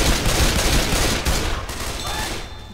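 A dense burst of rapid gunfire in the video game Left 4 Dead 2, shots overlapping into a continuous rattle, loud and close, tapering slightly toward the end.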